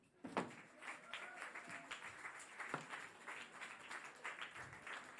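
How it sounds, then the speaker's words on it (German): Faint scattered clapping from a small audience at a music competition final, soft and uneven, rising slightly then holding steady at a distance. "Auf der Bühne, großen Applaus"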